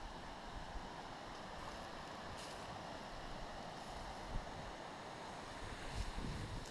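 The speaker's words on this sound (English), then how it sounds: "There's the river right there." A river flows steadily beside a campsite at dusk, a continuous broadband rush of water with some wind noise buffeting the microphone, fairly close and even throughout.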